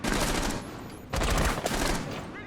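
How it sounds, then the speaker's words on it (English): Rapid automatic gunfire trading back and forth in a bakery area during a competitive collegiate Rainbow Six: Siege match, dense bursts of shots in two loud volleys with a short lull between them. "A little bit of a gunfire exchange there in that bakery area"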